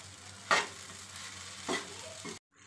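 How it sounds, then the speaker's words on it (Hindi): Sabudana khichdi with rock salt and peanut powder being stirred in a pan, a soft background sizzle broken by a few scraping spoon strokes, close and without talk, ending abruptly. "अब हम इसे अच्छे से मिक्स कर लेंगे।"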